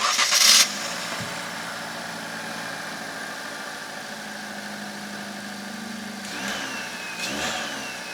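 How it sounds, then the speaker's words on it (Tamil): Maruti Eeco engine idling smoothly, a low steady hum with a faint whine on top, close by, with a short louder noise at the start and slight rises in revs toward the end. "ஸோ என்ஜினோட ரிஃபைன்மெண்ட் லெவல்ஸ் எப்படி இருக்குது அப்படின்னு பார்த்துருப்பீங்க. ரொம்ப ஒரு ஸ்மூத்தான என்ஜின் தாங்க."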